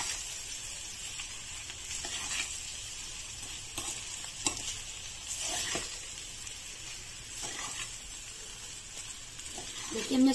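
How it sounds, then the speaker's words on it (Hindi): Sabudana khichdi with potato being stirred in a pan, a steady soft sizzle under repeated scraping strokes of a spoon, close and moderately loud, with brief bits of talk. "इसको भी अच्छे से हम मिक्स कर लेते हैं"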